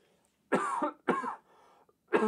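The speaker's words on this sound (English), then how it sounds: "Sorry about the coughing there." Three harsh coughs in quick succession, close and fairly loud, with short quiet gaps between them.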